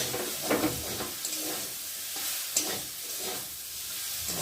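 Spices and capsicum sizzle in a pan while being stirred, a close, even frying hiss marked by a few soft scraping strokes.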